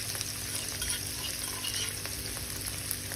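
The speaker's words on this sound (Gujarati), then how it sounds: "આને આપણે 1 મિનિટ માટે સાંતળી લેવાના છે" Spiny gourd (kankoda) sautéing in a pan with crushed ginger, garlic and pepper on medium heat, a steady close sizzle and crackle with faint stirring scrapes and no voices.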